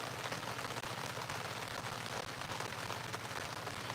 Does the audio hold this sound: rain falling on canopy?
yes